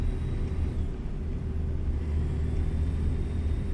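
All-wheel-drive International 9400i truck accelerating in American Truck Simulator, a game: a steady, heavy low engine drone that holds at a constant level with no spoken voice.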